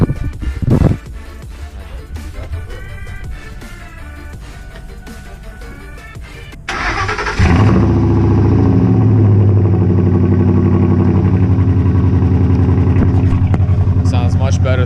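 A Ford F-150 pickup cold-starts after some nearby talk and clatter, its engine catching with a loud burst and then settling into a steady, rumbling high idle close by.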